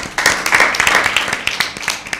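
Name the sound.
audience applause for team B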